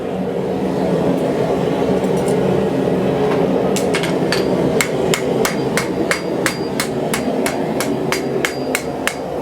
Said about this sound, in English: Playing with power hammers.